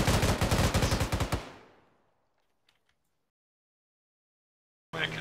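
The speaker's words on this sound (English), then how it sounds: "they're shooting at us" Rapid bursts of automatic gunfire in the military video game Arma 3, a loud clattering volley for over a second that decays into silence, with a faint distant shot and another burst cutting in at the end.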